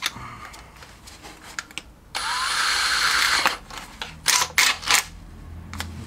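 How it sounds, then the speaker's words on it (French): A small electric drill whirs steadily for about a second and a half, close by, followed by a few short bursts and clicks, while fitting thread inserts into a stripped rear hub mount on a Peugeot. "je vais prendre mon embout ici, la petite perceuse"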